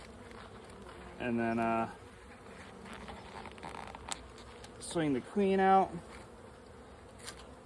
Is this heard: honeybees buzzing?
yes